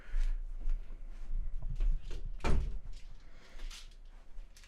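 A closet door is opened or closed indoors, giving one sharp knock-like thud midway through, with soft rustles and a low room rumble around it.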